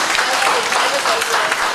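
An audience at a lecture-style meeting claps in a steady, dense burst of applause that fills the whole short moment at close range.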